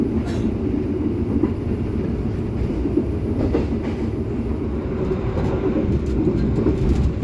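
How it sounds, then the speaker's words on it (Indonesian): Heard from on board, the Harina economy train pulls out of Cikampek station with a constant low rumble and rattle of carriages that stays steady throughout, no one talking. "Kereta api Harina telah diberangkatkan dari stasiun Cikampek ya."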